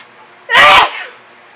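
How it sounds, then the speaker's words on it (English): A single sharp sneeze, close and loud, with a brief intake before it and a short trailing breath. "I may sneeze."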